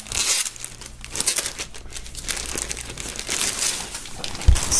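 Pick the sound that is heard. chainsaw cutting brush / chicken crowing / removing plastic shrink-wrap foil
removing plastic shrink-wrap foil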